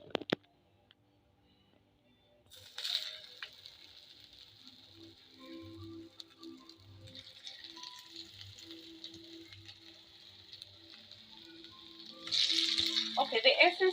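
Potatoes fry in oil in a pan, a soft, steady sizzle setting in after a quiet start, with a brief flare early on and a louder, fuller crackle near the end.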